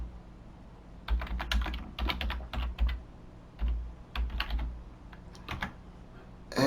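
Bursts of typing on a computer keyboard while entering an organization name into Cashbook accounting software setup, clustered clicks with short pauses, close and fairly quiet, no talking.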